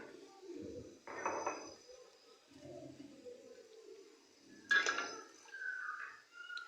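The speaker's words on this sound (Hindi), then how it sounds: "उसी से नाप कर आप पानी डाल सकते हैं अपने चावलों में।" Water poured into a pot of rice while making vegetable pulao, heard as short splashing bursts near the start and again later, with faint background noise between the pours.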